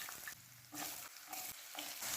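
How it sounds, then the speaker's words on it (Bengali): Cut potato pieces frying in hot oil with whole spices for an achari jackfruit dish, a faint sizzle that rises and falls in bursts as the pieces are turned. "এবার তেলের মধ্যে দিয়ে আলুগুলো ভেজে নেব"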